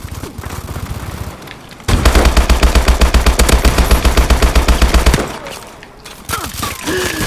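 Rapid automatic gunfire from the video game Call of Duty: Advanced Warfare, a loud sustained burst of dense shots lasting a few seconds, with scattered single shots before and after.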